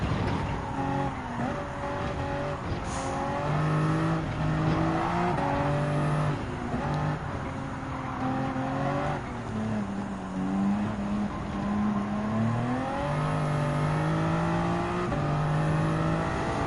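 Race car engines roar in Gran Turismo 7 at Grand Valley Highway 1, including a Peugeot RCZ Group 3. The engines rev steadily, gear shifts rise and fall, and nearby cars blend in, loud and continuous.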